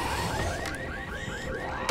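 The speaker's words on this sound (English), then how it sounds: "We need to turn the alarm off." An alarm in the zombie video game Dying Light wails in repeated rising electronic sweeps, moderately loud over a dense background of game noise.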